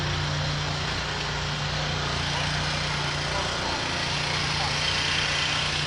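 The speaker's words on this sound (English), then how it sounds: "sorry, it's a lawnmower." A lawnmower runs nearby, its engine a loud, steady drone that holds unchanged throughout.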